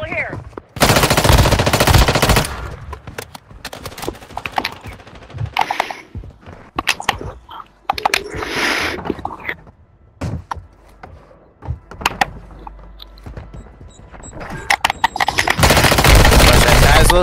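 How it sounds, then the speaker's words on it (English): Loud bursts of automatic assault rifle fire in the mobile shooter Warzone Mobile, rapid rattling volleys at the start and end with scattered shots and clatter between, alongside speech. "Assault rifle here."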